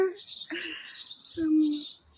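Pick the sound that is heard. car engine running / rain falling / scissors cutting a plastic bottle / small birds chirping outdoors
small birds chirping outdoors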